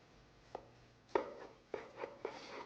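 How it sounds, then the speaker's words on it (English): A knife cuts into a reverse-seared boneless prime rib roast with a double rib cap, giving four soft crisp cutting strikes spaced about half a second apart against a quiet background. "We're gonna cut into this right now."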